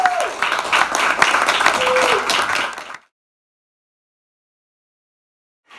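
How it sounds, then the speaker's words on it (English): Crowd at a Portland May Day event applauding for Anarchist Black Shield, energetic clapping with a few voices and whoops for about three seconds, then cutting to silence. "another round of applause for them"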